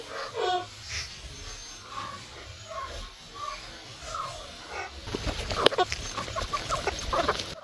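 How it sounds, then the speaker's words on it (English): Chickens on a small farm cluck in scattered bursts at moderate distance, growing busier and denser toward the end as the flock gathers at feeding time, with a faint steady high hiss underneath. "Come on, chickens."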